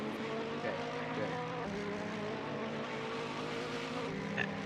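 Engine of a Mercedes GT3 race car in a racing video game at Paul Ricard: a steady, high droning howl that holds through, fairly faint, with a commentator's voice speaking over it.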